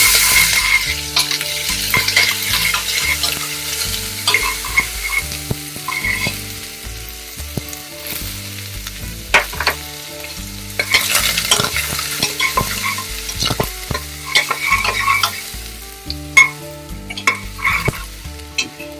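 Onion frying and sizzling in a pan with cardamom and cinnamon while a spoon stirs it, giving a steady crackle with repeated scraping strokes, close up and with no talk, during the cooking of village-style mutton.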